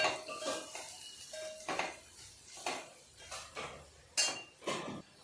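Tomato dal with turmeric is stirred in a metal pan, a spoon scraping and clinking against the pan in uneven strokes, close and moderately loud, with no talking.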